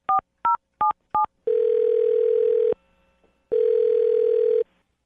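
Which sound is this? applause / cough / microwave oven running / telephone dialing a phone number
telephone dialing a phone number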